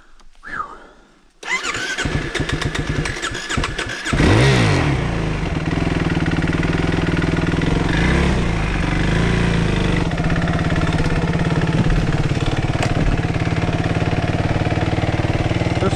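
A Suzuki RMX 450Z dirt bike engine starts after a brief lull, then runs at a steady loud idle with a rough thumping pulse, close by on a slippery, root-covered hiking trail.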